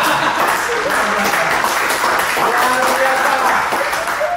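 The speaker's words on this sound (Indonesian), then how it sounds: "Dan kita terus tepuk tangan" Audience clapping steadily at a comedic gathering, a continuous, fairly loud patter of many hands, with people talking over it throughout.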